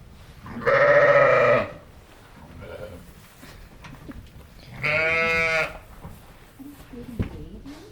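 A Border Leicester sheep lets out two loud, drawn-out bleats close by, separated by a few seconds of quieter background with faint shuffling.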